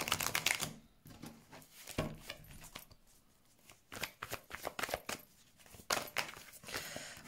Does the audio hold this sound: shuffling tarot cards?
yes